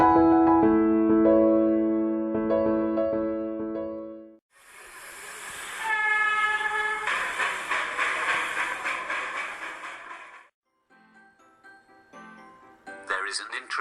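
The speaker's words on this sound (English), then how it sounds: "It is reached by road, or by its very own and much-loved toy train, the Darjeeling Himalayan Railway." Darjeeling Himalayan Railway toy train sounds a sustained multi-tone whistle, then runs with loud hissing and rhythmic rumbling, before a quieter stretch and another whistle.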